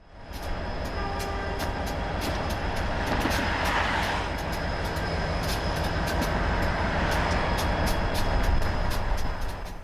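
A long, heavy train rolls past in a steady, loud rumble, with regular metallic clicks from the wheels repeating throughout.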